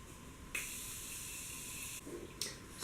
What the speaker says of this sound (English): I'm going to take the Morphe setting spray,